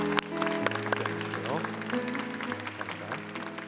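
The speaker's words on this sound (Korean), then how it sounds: "여러분 뜨거운 박수로" A church congregation at a Sunday worship service applauds, the clapping running under sustained organ or keyboard chords and some voices throughout.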